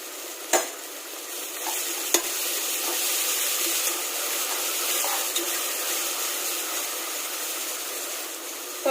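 Onions frying in a pan for white brinji vegetable rice, a continuous close sizzle with a few sharp scrapes and knocks of a spoon stirring, no voices.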